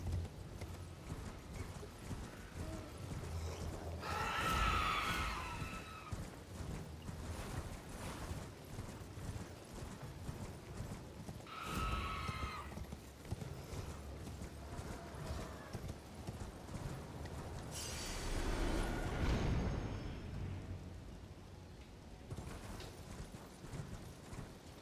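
Horse hooves clip-clop steadily in Elden Ring, with a few loud neighs and snorts rising over the continuous galloping at intervals.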